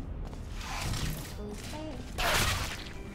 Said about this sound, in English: That's a great way to start a map, just getting shot at.